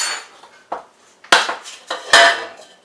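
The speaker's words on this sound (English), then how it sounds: "I run a knife around the outside" A knife scraped around the edge of a cooled cake in its metal baking pan, giving a few short, close scraping strokes with brief pauses between them, loudest in the last two passes.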